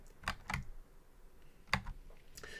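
A computer keyboard clicks in short, separated keystrokes during a Final Fantasy 7 session, a few sharp taps close and fairly quiet with pauses between them, no voices.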